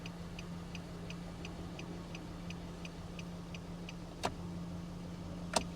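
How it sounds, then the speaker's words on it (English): A boat trailer's left turn signal ticks at a steady rhythm, about three clicks per second, over a low engine hum, followed by two sharp clacks. "Left turn signal."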